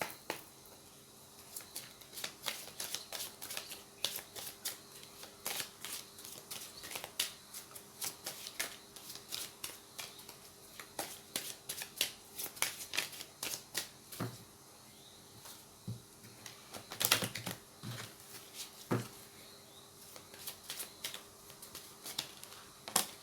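Oracle cards shuffled by hand for a reading, a long run of close, crisp riffling and slapping bursts at an uneven rhythm, with a few louder card snaps near the end.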